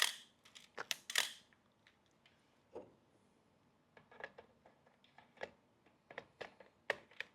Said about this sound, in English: Okay, cloth shutter.